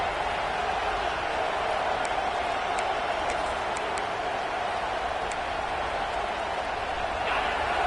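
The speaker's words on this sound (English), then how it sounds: "This crowd bringing the energy and noise early." Constant roar of a large stadium crowd at a college football video game, a dense wash of noise with faint scattered claps and shouts, no talking.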